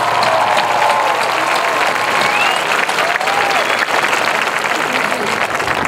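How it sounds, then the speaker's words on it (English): Sustained applause from a school graduation audience, dense and steady throughout, with a few cheers and whistles rising over the clapping. "Give them a big thanks and a round of applause"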